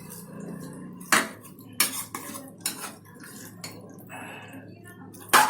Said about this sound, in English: I will just stir it for a little bit more time so that it mixes it properly